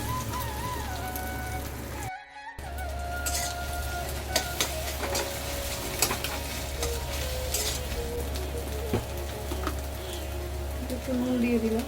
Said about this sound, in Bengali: এটা ভালো করে ভেজে এর মধ্যে ভাতটা দিয়ে দেবো।